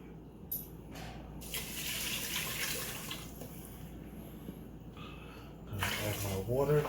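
Water pours into a pot for rice and peas after chicken stock in a home kitchen, an irregular gushing splash with brief pauses, fairly close and moderately loud.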